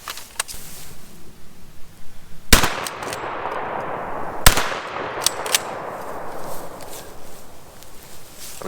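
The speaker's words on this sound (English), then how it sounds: "So these guns slam fire, so you can hold down the trigger and just pump it and it'll keep on firing." A pump shotgun fired outdoors by slam-firing, with two sharp loud blasts a couple of seconds apart, each followed by a decaying echo, plus handling clicks and rustling.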